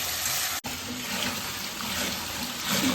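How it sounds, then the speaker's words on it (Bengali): Rice being washed in water gives a steady, close rush of running water, like a tap over a sink, continuing for the whole stretch with one brief break. "চালটা আমি ধুয়ে নিচ্ছি"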